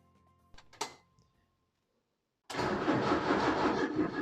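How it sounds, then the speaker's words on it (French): A car with a holed exhaust cranks briefly after a few small knocks, then after a short silence bursts into a loud, rough, roaring run that stays close and steady with no talking. "démarrer pour se rappeler le bruit que fait cet échappement avant de le changer"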